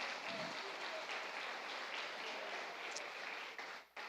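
A church congregation applauds at a live service, a steady wash of clapping that fades near the end, with faint voices mixed in.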